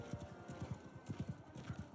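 Horses gallop in a medieval fantasy video game, hooves clip-clopping in quick, uneven rhythmic bursts at low, moderate distance, with no talk over them.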